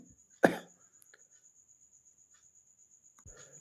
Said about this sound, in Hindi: इस कारण से खांसी भी आ जा रहा है बीच बीच में